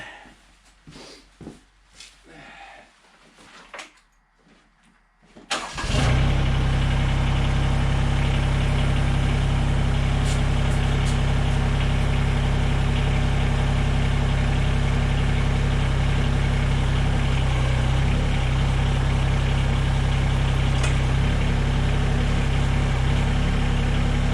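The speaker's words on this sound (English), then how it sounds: "I'm just gonna start the tractor," A Mahindra eMax20s HST compact tractor engine cranks and catches, then settles into a loud, steady diesel idle that rumbles on unbroken for many seconds close by.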